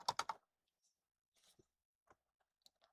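Typing on a USB computer keyboard hooked to a vintage AT/XT PC: a quick burst of three clacky keystrokes at the start, then scattered single taps, fairly close and otherwise quiet.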